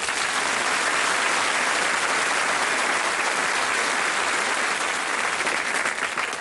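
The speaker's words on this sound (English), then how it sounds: "Give them a nice round of applause." Studio audience applause on a TV game show, a dense steady clapping that stays loud and even for the whole stretch with no voices over it.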